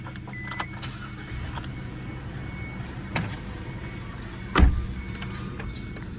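Isuzu car being driven up onto the tray of a slide-tray recovery truck, with a low idling engine hum, scattered clicks and a sharp thump near the end.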